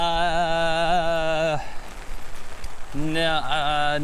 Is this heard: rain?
yes